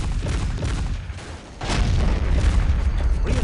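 Heavy cannon fire and booming battle noise from a Men of War: Assault Squad skirmish, a dense rumbling barrage that dips briefly before a loud new blast swells back to full intensity.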